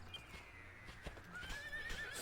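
A horse in the video game Dragon Quest 8 neighs with a rising, drawn-out whinny over soft hoof clip-clops and light background game sounds.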